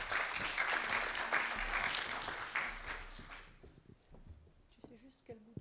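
Audience applause at a conference, broad and sustained for about three seconds before fading out, followed by quiet speech from a few voices.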